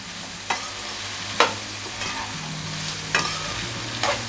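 Twenty-one vegetables for sambar sizzle and fry in a pan, with steady crackling broken by a few distinct scraping stirs of a spoon, heard up close with no talking.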